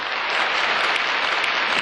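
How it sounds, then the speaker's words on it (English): Loud, dense audience applause at a photography awards ceremony, a steady wash of many hands clapping close by, with no pauses or voices. "So, yeah, applause to all of you."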